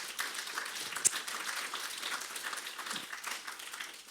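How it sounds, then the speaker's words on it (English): An audience applauds a panel at a discussion event, a faint, distant patter of many hands clapping that holds steady for a few seconds. "a round of applause to our wonderful panel"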